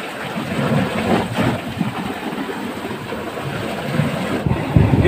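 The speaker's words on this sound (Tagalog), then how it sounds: "Tapos isang ulan." Heavy rain pours steadily during a thunderstorm at sea on a fishing trip off Linapacan, Palawan, a dense continuous roar with low rumbling underneath and no voices.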